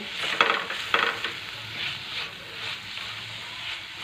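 A spoon mixes a sizzling amaranth leaf stir-fry with coarsely crushed peanuts in a pan, giving a few scraping strokes early on, then a soft, steady frying hiss.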